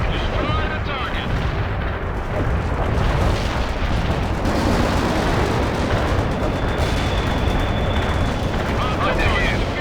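Air-strike explosions in the real-time strategy game World in Conflict, a loud, dense, continuous barrage of booming blasts and rumbling detonations filling the whole stretch, with battlefield radio chatter mixed underneath.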